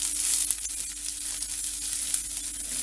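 Chopped onions sauté in a pan for butter chicken gravy with a continuous, moderately quiet sizzle and frying crackle, punctuated by a few faint stirring clicks.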